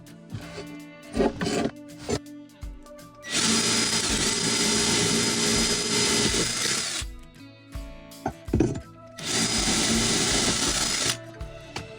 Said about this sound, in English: I probably now need to drill a few holes.